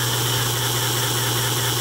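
A 1950s American Flyer toy train plays a digital steam engine sound, a steady electronic hum with constant tones and a rough, breathy chuffing texture, loud and unbroken with no talking.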